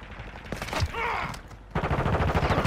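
Glock pistol gunfire in Call of Duty: Modern Warfare II, heard as loud game combat noise with a sharp burst early and a dense rattling stretch of shots toward the end.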